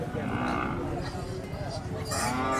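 Cattle moo in a couple of low, drawn-out calls over a busy background of murmuring voices and general outdoor noise at a livestock market.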